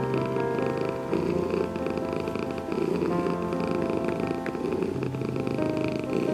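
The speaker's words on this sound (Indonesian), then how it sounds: "itulah 3 alasan kenapa kucing mendengkur" A cat purrs steadily and close by, with a continuous rhythmic vibrating rumble that rises and falls with each breath, alone and without any talking.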